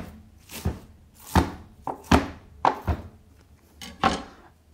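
A knife chops roughly through a bundled heap of spinach on a cutting board, giving about eight close, uneven thunks in loose rhythm with no talking.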